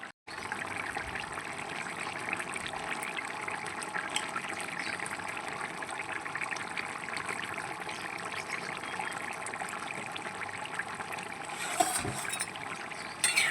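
Navratan paneer curry bubbling steadily in a pot, a continuous close watery simmer with soft liquid gurgles throughout and a few sharper pops near the end, no voices.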